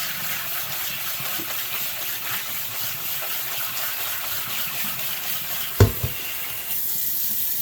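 Tap water runs steadily over vegetables in a strainer in a kitchen sink, a constant close hiss with one brief knock partway through.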